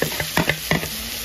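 Spices fry in a pan, with a few quick scraping stirs and light knocks of a utensil over the constant crackle.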